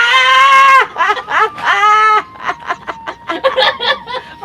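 A small goat bleats loudly and close by, giving two long wavering cries followed by a run of shorter, choppy bleats.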